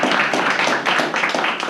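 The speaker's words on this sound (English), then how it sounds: "A big clap for him." A seated audience at an LSE Pakistan Society debate claps for the chair, a dense steady round of applause lasting the whole moment, fairly loud and close, with no voices over it.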